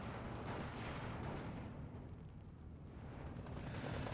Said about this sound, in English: Now the the howitzer, throwing down some smoke.